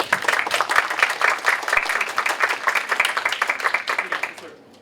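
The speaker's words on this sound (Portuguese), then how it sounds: "uma salva de palmas para o professor" An audience at a mathematics seminar applauds a professor with dense, steady clapping that tapers off and fades out toward the end.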